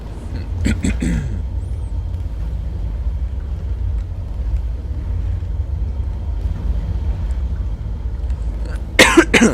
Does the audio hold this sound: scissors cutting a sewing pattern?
no